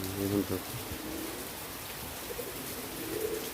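Steady rain falls in a constant, even hiss that runs the whole time, with a pigeon-like coo near the start and faint background voices.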